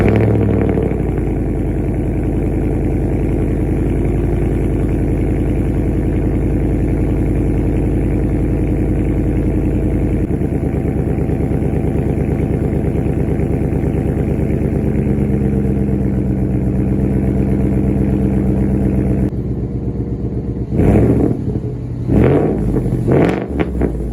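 A Ford F150 with a 5.0L V8 and aftermarket exhaust idles with a deep, loud, steady rumble, then is blipped near the end in several sharp revs that rise and fall.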